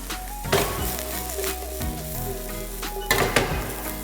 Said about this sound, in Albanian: selinoja tu është gati e skuqur, dhe hedhim dhe kërpudhën